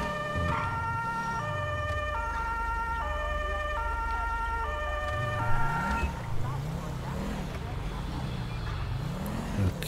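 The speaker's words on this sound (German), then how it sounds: "Sirene an." A police car siren in GTA 5 wails steadily in a rising and falling cycle over a constant engine drone, loud and continuous throughout.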